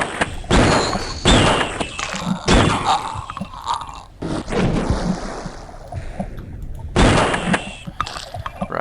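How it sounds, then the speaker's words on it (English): Repeated shotgun blasts fired at eels underwater in the DOS game Blood, E1M5 Hallowed Grounds: about five loud, broadband booms at irregular intervals, each trailing into a muffled watery rumble, with no talk over them. "We'll just dive back in and shotgun the rest now."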